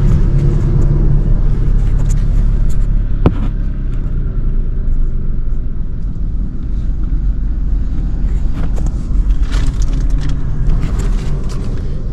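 A Mahindra XUV300 W4 engine runs steadily while the car reverses, a continuous loud low rumble with some wind noise and no talking.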